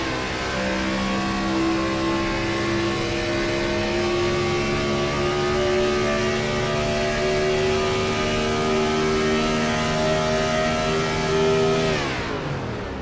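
An IROC race car engine at Chicago drones loud and steady with the driver off the gas and clutch in, its pitch sliding gradually before dropping away sharply at the end.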